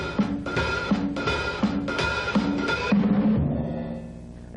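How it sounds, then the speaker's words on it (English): A drum set plays a ragtime rhythm in 2/4 in a jazz band setting, with a steady two-beat pulse of hits over sustained low tones, continuous and fairly loud with no talking. "when that's translated into the drum set rhythms, sometimes it could sound like this in 2/4"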